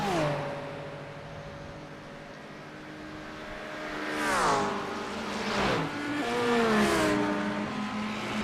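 Race car engines howl down the Le Mans straight in a racing video game, steady high revs with pitch sweeps as cars shift and pass, loud and close, one rising surge near the middle and another near the end.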